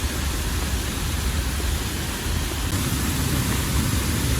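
Rain and the Haew Suwat waterfall in Khao Yai blend into a loud, steady broadband rush that holds without a break from start to end and carries no speech.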